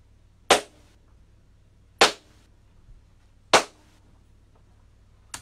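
Pair of K-Swiss sneakers smacked together as a snare for a beat: three loud, sharp slaps about one and a half seconds apart, close and dry, with a fainter hit at the very end.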